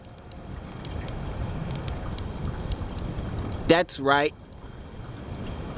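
Heavy wind buffets the microphone in a steady low rumble near a boat on open water, with a brief spoken remark partway through.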